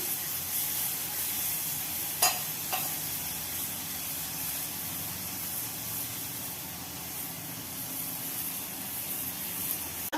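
Shrimp and mushroom sizzle steadily in a pan as their water cooks off, a continuous close frying hiss with a couple of faint clinks partway through.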